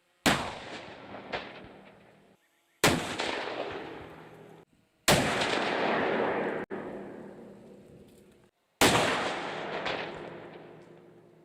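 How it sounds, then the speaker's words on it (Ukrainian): Four loud, sharp explosive blasts go off one after another a couple of seconds apart during a shelter strength test, each followed by a long rumbling decay, with no voices. "Коли все готово, в дію йде вибухівка."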